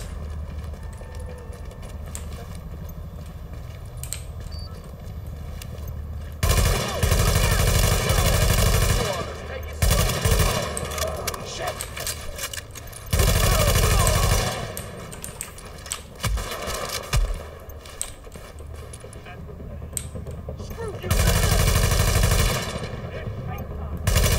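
Video game gunfire in loud, sustained automatic bursts separated by quieter gaps, with repeated volleys dominating the scene.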